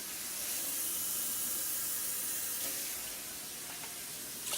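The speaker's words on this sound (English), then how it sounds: "So I'm just going to put cold water in here." Cold tap water runs steadily into a cooking pot for rice on a kitchen stove, a continuous close hissing splash that stays loud and even, easing slightly near the end before a brief surge.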